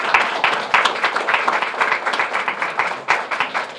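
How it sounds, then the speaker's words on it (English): Crowd applause at a press event on school enrollment, with distinct, close claps layered over a broader clapping wash, loud and fairly steady, dipping briefly near the end before picking back up. "Let's give a round of applause for our superintendent, our board, and all of the officials that are gathered here"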